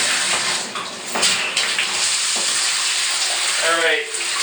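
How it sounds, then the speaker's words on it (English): Peanut butter jars get washed by hand in a bathtub of water, with loud continuous splashing, sloshing and running-water noise close by and a few brief swirling gurgles near the end. "It is peanut butter washing time."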